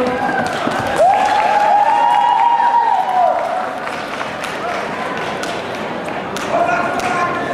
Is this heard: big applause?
yes